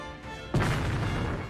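In an animated film, an aircraft is hit by gunfire and destroyed, heard as a sudden loud crash and burst after a brief quiet lead-in, followed by a sustained roaring rumble.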